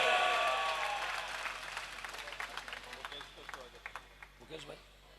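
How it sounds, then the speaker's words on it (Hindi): Crowd applause at a night-time cowshed charity gathering, loud clapping at first that thins into scattered, fading claps, with voices talking over it. "ताली बजाओ"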